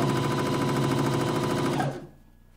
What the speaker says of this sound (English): you just sew along it like so